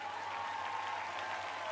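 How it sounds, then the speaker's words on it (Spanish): Steady applause from a festival crowd at a celebration of Spain's world champion team, a dense, even wash of clapping that holds at one level throughout without pauses. "necesito, por favor, que todos demos un gran aplauso"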